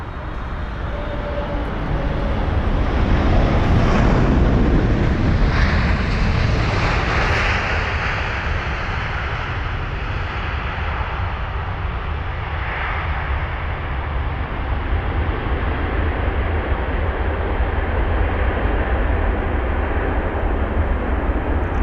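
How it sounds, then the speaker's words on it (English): A 13-year-old British Airways Boeing 777-300ER arriving at London Heathrow from Chicago roars loudly overhead, swelling to a peak early on and then settling into a long, sustained jet rumble with no voices. "BA296, the British Airways 777-300ER with the reg Golf Sierra Tango Bravo Alpha GSTBA from Chicago."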